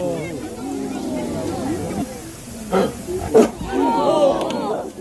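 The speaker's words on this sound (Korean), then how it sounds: "이 어흥 소리를 들려주고자 계속 연습한 거예요." A Korean tiger at a zoo gives short growling roars in bursts, one near the middle and a louder one later, close by, mixed with the voices of keepers talking around it.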